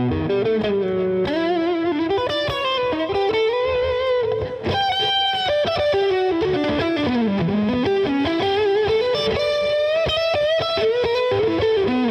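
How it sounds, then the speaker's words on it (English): Distorted John McGuire electric guitar on the middle pickup plays a continuous melodic riff with bends, loud and steady with a chorus-like shimmer. "Neck pickup, the middle pickup sounds quite great."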